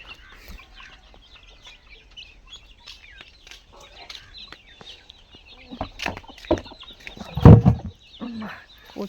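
Backyard chickens, including one aggressive hen, cluck in short scattered bursts, louder and denser toward the end, with a voice speaking nearby.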